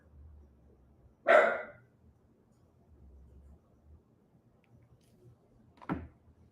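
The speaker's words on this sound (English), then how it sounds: "Milo, don't bark" A dog barks indoors: one sharp, fairly close bark, then a fainter second bark several seconds later, with quiet background between.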